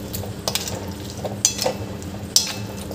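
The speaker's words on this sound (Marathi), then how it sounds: "आणि हे छान मिक्स करून घ्यायचं आपल्याला" A spoon stirs mixed vegetable curry in a pan, giving a few distinct scraping clacks against the metal spaced about a second apart over a soft, steady sizzle, close-up with no talking.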